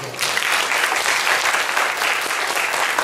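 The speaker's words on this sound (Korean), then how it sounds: "박수 한번 보겠어요" Steady applause from a congregation at a Sunday church service, dense continuous clapping throughout with no pauses.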